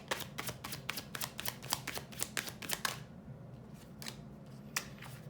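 Tarot cards are shuffled and riffled in quick bursts of crisp slaps and flutters, close and fairly quiet, followed by a few scattered card taps.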